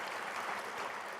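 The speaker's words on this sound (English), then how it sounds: "you can clap if you like" A short burst of audience applause at a university address, a dense, even wash of clapping that holds steady for about a second.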